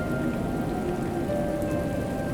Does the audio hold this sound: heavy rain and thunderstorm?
yes